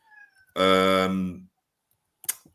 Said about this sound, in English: My cat's looking for who's meowing.